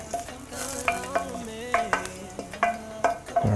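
Vegetables and garlic sautéing in a pan for stuffed peppers, a steady sizzle with repeated scraping stirs every half second or so, close and fairly loud, no talking.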